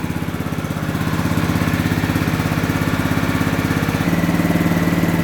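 A riding lawn mower engine idles steadily and close by after an oil change, with a continuous low throbbing drone that shifts slightly in pitch about four seconds in.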